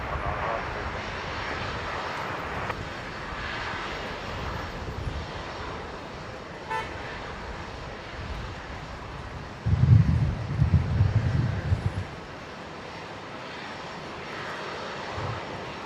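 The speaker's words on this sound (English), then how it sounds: "cleared for takeoff" An airliner takes off at Brisbane Airport, its engines a distant, steady roar over outdoor wind that surges into a louder rumbling burst partway through before settling back, with no speech.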